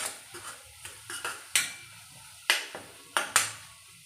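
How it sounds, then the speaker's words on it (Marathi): A spoon stirs and sautés ground spices, coriander powder and turmeric, in oil in a pan for masala okra, with repeated sharp metallic scrapes and clinks close up over a faint sizzle, and no talking. "पाव चम्मच कमी हळद आणि छान मसाले मिक्स करून घेऊया आणि छान परतून घेऊया"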